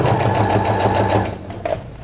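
Sewing machine running fast and close, stitching the lining of a zippered cosmetic pouch in a steady whirring buzz that slows and stops near the end.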